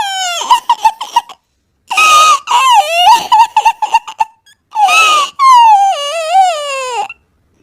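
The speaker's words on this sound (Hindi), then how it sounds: "उसे रोने की आवाज आती है" A person crying in a forest, loud wailing and sobbing with broken gasps and drawn-out moans, close and alone in several long bursts.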